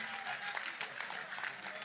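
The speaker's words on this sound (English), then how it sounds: "can we make a round of applause for Mr. Peter Obi" A crowd claps continuously at an Independence Day speech event in Nigeria, a dense, even patter of applause at moderate distance with no single voice standing out.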